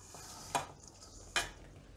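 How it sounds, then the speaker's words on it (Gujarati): Spoon scraping through a sweet khoya mixture with powdered sugar, two distinct scrapes against the pan over a quiet background, near and moderately loud. "બધું એકદમ આ રીતે મિક્સ કરી લેવાનું."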